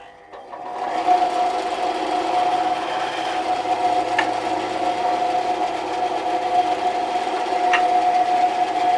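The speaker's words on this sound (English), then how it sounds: "Not the best bandsaw in the world, but it does the job." A bandsaw running steadily in a workshop, a continuous close mechanical whine with a sustained tone and faint ticks, no talking.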